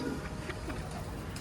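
Pigeons coo softly in short, low repeated calls at a fancier's loft, set against a faint background murmur.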